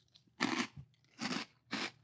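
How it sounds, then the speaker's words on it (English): Pebbles Crunch'd cereal is chewed in three loud, close crunching bites, each a sharp, brittle burst followed by a short pause. "This is the crunchiest cereal I've ever had."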